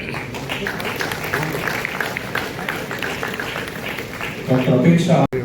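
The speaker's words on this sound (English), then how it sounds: "Please keep the applause flowing." Continuous applause at a medical college graduation ceremony, a steady wash of clapping under an announcer reading out graduates' names, swelling louder near the end.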